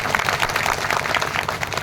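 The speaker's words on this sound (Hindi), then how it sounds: "तो ऐसे महान जननायकों को जोरदार ताली के साथ में स्वागत होना चाहिए।" A crowd at an outdoor public gathering in a village applauds to welcome leaders, with dense, loud clapping that holds steady throughout.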